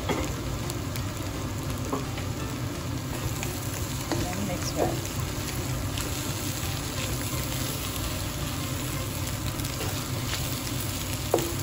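Kottu roti made with wholemeal roti and green chili frying steadily in a pan, a continuous close sizzle with occasional scraping and stirring taps throughout.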